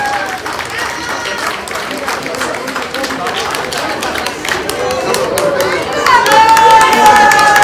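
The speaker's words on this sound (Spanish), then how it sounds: "¡Fuerte el aplauso para Acerina y sus creadores!" A crowd applauds the steel-coloured Flemish Giant rabbit champion at a breed show, sustained clapping and murmuring that swells louder near the end, with voices and some whistles mixed in.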